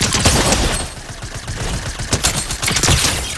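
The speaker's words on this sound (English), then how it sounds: "He's shooting at me. He's shooting at me." Fortnite gunfire as another player shoots: a dense, loud barrage of rapid shots crackling close by without pause, with no talk over it.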